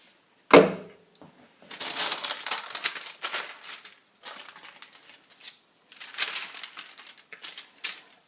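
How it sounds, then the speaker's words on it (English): Parchment paper lining is peeled away from a homemade crafter's soap block taken from a plastic mold, giving a sharp crackle followed by several stretches of close, crinkly rustling with short pauses and no talking. "the parchment paper came off really easy too."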